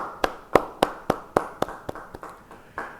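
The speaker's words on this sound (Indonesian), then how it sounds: "Yang percaya, beri tepuk tangan yang meriah bagi dia." A church congregation at a Bible study claps in unison, about ten sharp, evenly spaced claps over a few seconds, with no talk.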